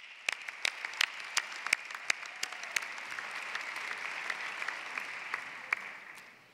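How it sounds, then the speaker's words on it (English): Steady applause rises from a large audience at a college commencement ceremony, with a few sharp, distinct claps standing out near the front before the sound slowly fades. "Let's give her a round of applause."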